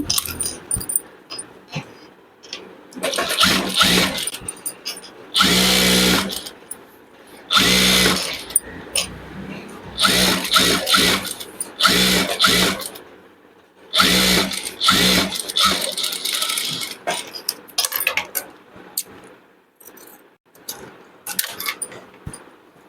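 An electric sewing machine stitches a girl's petticoat in repeated motor bursts of a few seconds each, separated by short pauses and lighter handling clatter.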